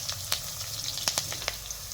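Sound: tempering green chillies, curry leaves, asafoetida sizzling in oil

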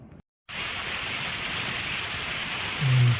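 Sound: rain falling

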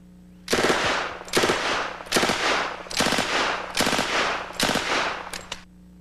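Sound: 1921 .45 ACP gangster-movie submachine gun firing

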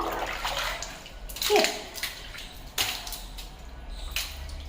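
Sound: water splashing while washing the passage floor

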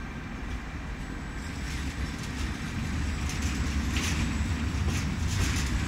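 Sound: train passing through station on track 1

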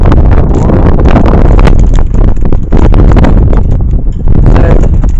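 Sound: strong wind blowing on microphone

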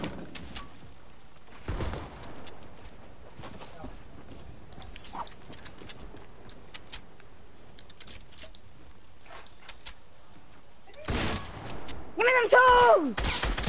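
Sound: gunfire from a first-person shooter video game

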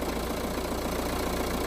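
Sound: diesel car engine idling after starting

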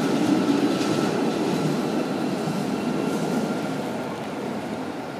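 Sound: Bielefeld Stadtbahn Line 1 tram to Senne

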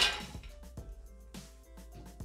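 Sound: almonds dropped into a blender jug

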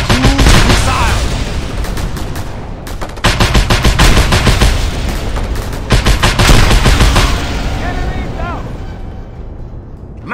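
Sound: mounted gun firing in video game Just Cause 2

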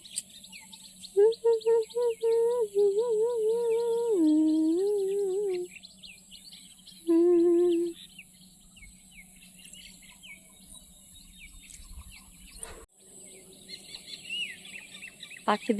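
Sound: many kinds of birds calling in the morning

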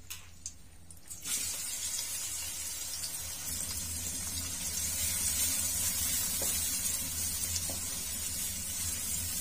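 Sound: finely chopped onions frying in mustard oil in a wok

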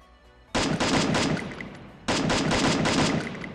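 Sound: gunfire from shooting in Free Fire video game

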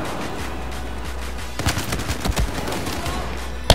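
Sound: assault rifle gunfire in Battlefield video game

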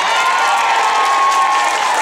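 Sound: party guests applauding

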